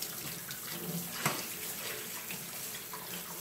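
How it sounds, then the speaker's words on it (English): Running tap water rinses a dish in a sink, a steady close splashing rush with a small clink partway through, no talking. "Right now, this is pretty easy to clean. Just kind of rinse it off."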